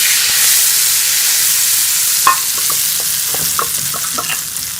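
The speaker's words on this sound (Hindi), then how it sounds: "ये तड़का जो है वो दाल में लगा लेंगे।" Hot tadka hits a pot of moong dal with a loud, bubbling sizzle and spitting crackles, settling into a steady frying hiss with scattered pops, no voices.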